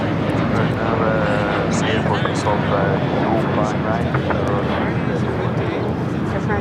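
An American Airlines jet taking off from runway 25 right at LAX, bound for Phoenix, a loud continuous engine roar that holds steady throughout, heard close and filling the scene.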